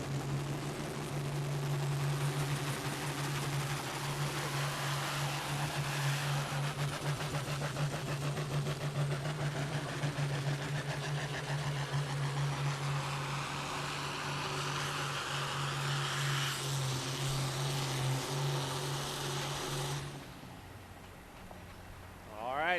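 A truck's pulling engine roars loud and sustained at a county fair truck and tractor pull, a rough droning pull that holds for about twenty seconds before cutting off, with a brief spoken word.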